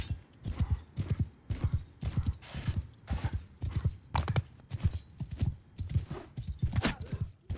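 Rhythmic clip-clop of horse hooves in Mount & Blade 2: Bannerlord, a steady galloping beat of close, even hoofbeats with a faint neigh.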